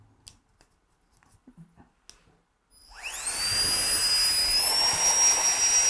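A small Nitecore BB Nano electric air blower spins up after a few soft handling taps, its whine rising quickly in pitch and then holding as a loud, steady, high-pitched jet-like hiss, close up with no speech.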